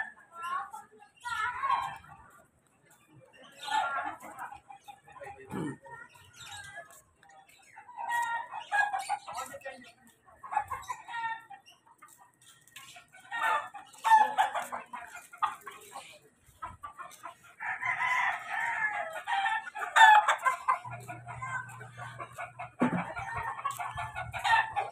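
Chickens cluck repeatedly while a rooster crows, with people talking intermittently in Filipino over the farmyard noise.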